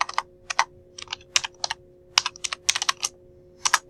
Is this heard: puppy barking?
no